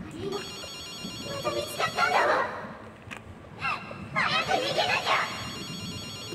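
A phone rings in the video game Ghostwire: Tokyo, a repeating electronic ringtone in two bursts over game sounds, with voices speaking over it.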